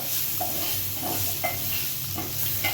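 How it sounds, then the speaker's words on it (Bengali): Potato pieces seasoned with salt and turmeric frying in a pan, a steady close sizzle with a few soft stirring scrapes and clicks throughout. "আলুটার মধ্যে নুন আর হলুদ দিয়ে ভালো করে ভেজে নেবেন"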